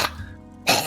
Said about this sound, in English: that kind of sounds like a cough